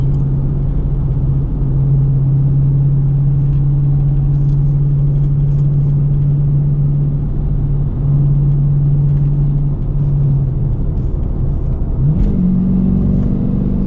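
A Dodge Challenger R/T with a six-speed manual gearbox rumbles in a low steady drone while driving, then the engine note drops and climbs again as it downshifts near the end, close and continuous.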